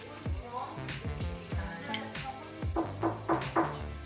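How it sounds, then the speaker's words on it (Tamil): Salted onions sauté in a pan with a close, steady sizzle, broken by repeated scraping and stirring strokes that grow busier toward the end. "இப்போ வெங்காயம் நல்லா வதங்கிடுச்சு"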